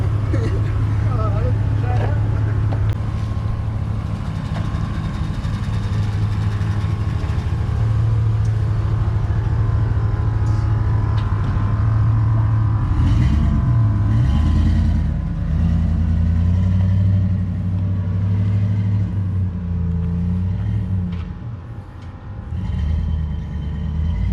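A bagged Chevrolet truck built as an SS clone drives around the block, its engine rumbling steadily and close by under ongoing cabin talk.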